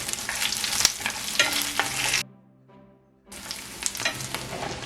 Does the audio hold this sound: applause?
no